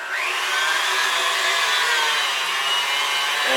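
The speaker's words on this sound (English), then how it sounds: "Take the pieces and you put them in your grinder." A KitchenAid meat grinder grinding meat for cured sausages through its largest plate, a steady close motor whine running without pause and no talk.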